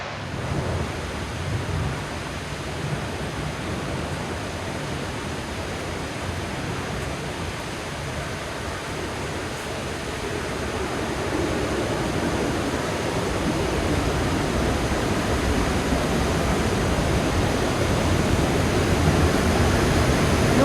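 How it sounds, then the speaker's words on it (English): Broadband roar of water rushing at Weeks Falls, a steady noisy wash that grows slightly louder over the span, with no voices over it. "it wasn't the most photogenic of waterfalls, but at least it might be some sort of a subject here."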